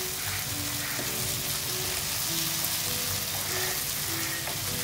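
Mutton keema masala fries in a pan with a constant dense sizzle and crackle, heard close and fairly quiet. Faint background tones run underneath, and no one speaks.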